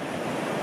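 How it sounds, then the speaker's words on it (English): A brief wash of surf noise on a beach in Malta, broad and steady like waves breaking nearby, with a windy rush. "you could probably hear the sea quite a lot"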